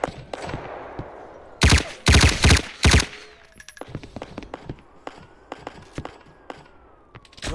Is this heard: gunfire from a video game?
yes